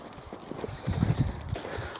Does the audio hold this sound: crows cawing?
no